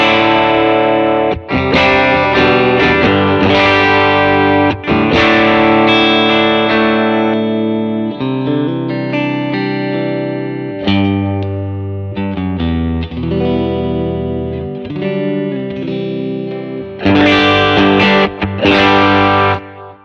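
A Telecaster played hard on the bridge pickup through a Line 6 Helix Vox AC30 Brilliant patch, with chords and riffs breaking up into a gritty, saturated crunch, loud and continuous for about twenty seconds.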